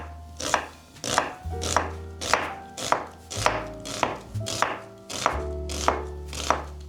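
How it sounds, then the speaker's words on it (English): A knife chops through onion on a board in a steady rhythm, about a dozen crisp, close strikes with no talking. "I'm slicing the onion."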